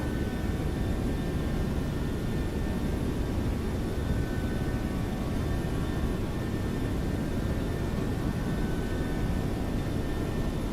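Boeing 737-700 jet engines roaring at takeoff thrust in the X-Plane 12 flight simulator, a steady, dense whooshing drone holding constant throughout with no voices.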